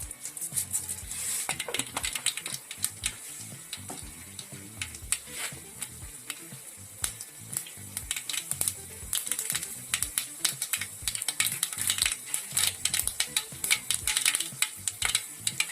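Mustard seeds splutter and pop in hot oil while a beef stew is prepared, a rapid, irregular crackle of sharp little bursts that keeps going and grows busier toward the end.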